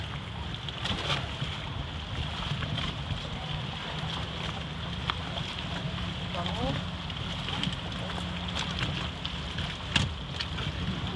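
A boat engine hums steadily under wind and water noise on the sea off Cala Gonone, Sardinia, with occasional knocks and faint voices in the background.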